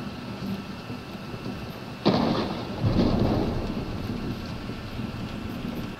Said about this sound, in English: Did it start raining?